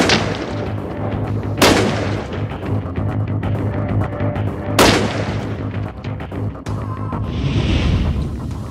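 A short-barrel shotgun fired at a melon outdoors: two loud, sharp blasts several seconds apart, each with a booming decay, over a steady low background, with a smaller crack near the end.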